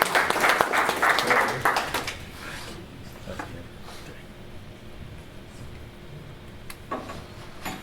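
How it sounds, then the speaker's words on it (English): At a PHP meetup talk, a small audience claps for a few seconds at close range before the applause fades out into quiet room noise, with a few scattered knocks later on. "Give a round of applause for Serkan."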